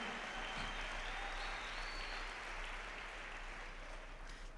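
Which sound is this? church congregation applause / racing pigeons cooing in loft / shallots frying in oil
church congregation applause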